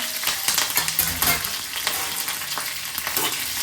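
Garlic and green chillies land in hot oil with mustard seeds, cumin and ginger, giving a loud, busy sizzle with crackling spatter and stirring scrapes throughout, close and continuous.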